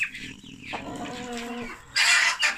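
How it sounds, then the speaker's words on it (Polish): A young rooster gives a few soft, broken clucks close by, followed by a brief higher squawk near the end. "To jest młodziutki kogucik."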